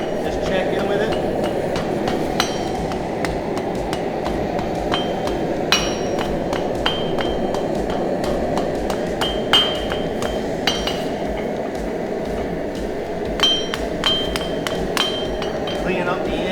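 Steel being hammered on an anvil while a bottle opener is forged and its edges chamfered: sharp metallic strikes come at irregular intervals over a steady hum of shop noise.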